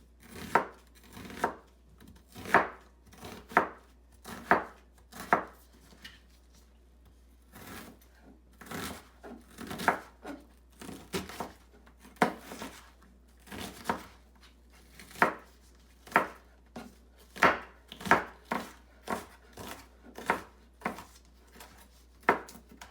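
A knife chops an onion on a cutting board for a potato pancake recipe, producing many crisp, close knocks in uneven bursts, mostly quick runs of cuts with short pauses, and no voices.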